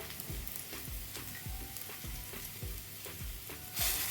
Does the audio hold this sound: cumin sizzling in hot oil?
yes